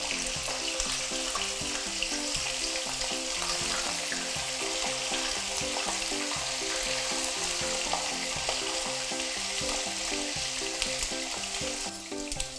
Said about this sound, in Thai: เดี๋ยวจะทอดหมูก่อนนะคะ